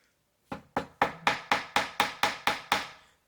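A fly-tying hair stacker is rapped against a hard surface about ten times in a quick, even rhythm, each sharp, close knock standing alone with no voices.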